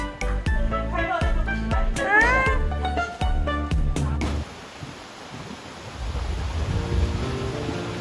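A free-roaming cat meows several times in quick, rising and falling calls, then gives way to a steady outdoor rush of wind or flowing water at the mountain streams of Beijiushui, Laoshan, Qingdao.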